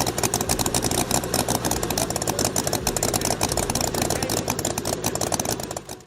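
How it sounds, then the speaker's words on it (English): A 1922 motorcycle with its engine built into the front wheel runs loud and close, its rapid, rough firing pulses steady throughout before easing slightly at the very end. "Imagine an engine, yes, an engine, built directly into the front wheel."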